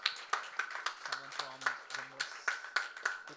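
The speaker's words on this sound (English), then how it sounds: "Can we have big round of applause for Rimbus?" Sparse, irregular claps from a small audience at an award event, with sharp individual hand strikes spaced unevenly and a faint voice or tone underneath.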